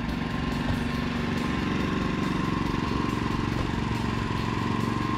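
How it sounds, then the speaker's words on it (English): A lawn aerator with wheels and a shaft of tines runs close by, giving a continuous rough mechanical engine drone with a steady rattling pulse and no breaks. "I want to show you the aerator."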